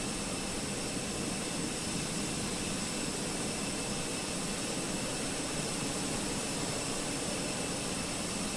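Airbus A321 jet engines run up during start-up in Microsoft Flight Simulator 2020, a loud steady roar and whine with a high tonal hum layered on top, sustained evenly with no voices.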